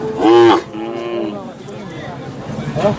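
A bull at the Sangola cattle market in Maharashtra lets out a loud, drawn-out moo up close, followed by quieter low lowing and background murmur, with another short bellow near the end.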